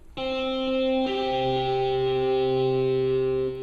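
Two sustained, slightly distorted synth tones, a lower C followed by a G a fifth above, each held steadily.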